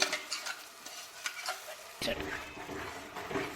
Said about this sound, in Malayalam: ഇതും അതേപോലെ തന്നെ നല്ലോണം ഇളക്കി ഇതാക്കണം. അതിൻ്റെ എണ്ണ തെളിഞ്ഞ് വരുന്നോടെ വരെ ഇളക്കണേ.